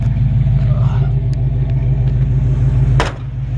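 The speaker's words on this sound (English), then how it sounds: "Great sounding exhaust." A 1963 Chevrolet C-10 Fleetside pickup idles with a loud, steady, deep exhaust rumble, close by, with a brief sharp clank near the end.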